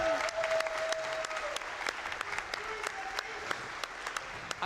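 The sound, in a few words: audience applause at speedrun event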